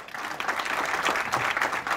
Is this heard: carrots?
no